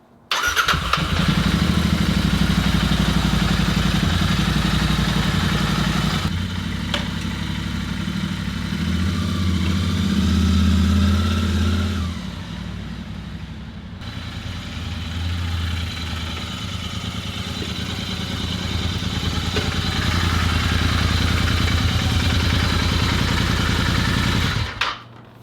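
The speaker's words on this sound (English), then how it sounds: "Let your engine warm up, or not warm up, but just let the oil circulate" A Royal Enfield Interceptor 650 motorcycle engine idles steadily and loudly for the whole stretch after an oil change, a low rumbling throb with slight rises and dips, no talking.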